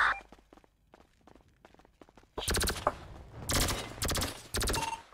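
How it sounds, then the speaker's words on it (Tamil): Rapid crackling bursts of firecrackers go off in dense volleys, starting as scattered faint pops and then erupting into loud, close strings of rattling explosions with brief pauses between. "பட்டாசு அடிச்சிருக்கு"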